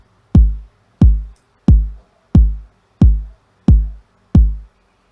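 A boom bap hip hop kick drum pattern programmed in music software at 80 to 90 BPM, seven deep, punchy thumps evenly spaced and decaying quickly, loud and clean with no voices.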